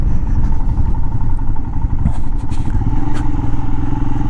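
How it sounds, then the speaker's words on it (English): A Royal Enfield Himalayan motorcycle running on a ride through a wildlife refuge, its steady engine drone loud and close throughout with light clatter and wind, and no one talking. "an analog-ish motorcycle"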